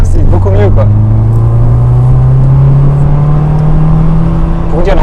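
A 2004 Toyota Yaris TS Mk1 with a 1.5-litre VVT-i petrol engine climbs steadily in pitch as it accelerates, its exhaust note droning loud and continuous from inside the cabin, with brief voices at the start and end.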